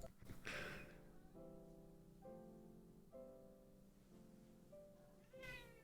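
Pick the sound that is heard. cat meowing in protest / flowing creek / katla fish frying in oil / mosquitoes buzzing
cat meowing in protest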